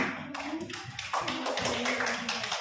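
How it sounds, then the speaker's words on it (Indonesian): A class claps for a student group, a short spell of scattered, uneven hand claps from a small group of pupils, fairly close and lively. "Tepuk tangan dulu yang kelompok ini"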